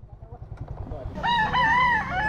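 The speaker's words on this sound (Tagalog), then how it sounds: "Daming manok dito ah." A rooster crows loudly nearby in Batangas, one long rising and falling call, coming in after a stretch of low rumbling background noise.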